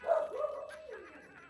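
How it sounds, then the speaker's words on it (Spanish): A dog on the street gives a short burst of barking, one or two yelps that trail off, fairly near and moderately loud, with no talk over it. "De estar pasando gente extraña por la calle que ladran los perros"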